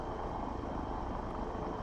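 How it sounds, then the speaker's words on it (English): Helicopter rotor and engine drone in the War Thunder video game, a steady low continuous whir that fills the clip at moderate level with no talk over it. "I hear the helicopter sound."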